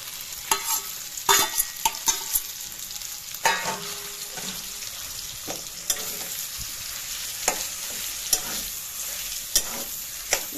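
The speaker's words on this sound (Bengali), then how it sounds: "এটাকে ভালো করে ভাজা ভাজা করে ভাজবো।" Green pea paste with ginger and chilli paste fries in a wok under a soft, continuous sizzle, broken by sharp scraping clicks and knocks as a utensil stirs it at irregular intervals.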